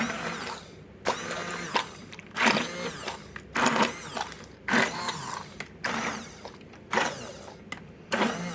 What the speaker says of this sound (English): Let's blend this up for a minute, see what happens.